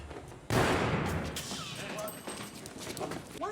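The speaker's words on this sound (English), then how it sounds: "Why did you shoot the wall, Officer Presbalewski?" A single loud gunshot from a police officer's pistol fired into a wall in an office scene of The Wire, a sharp crack followed by a ringing, echoing tail, with some faint voices afterward.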